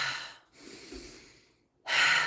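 Slow, deep breaths during a guided breathing exercise, close and clear, with a long airy inhale, a softer pause and a strong breath out.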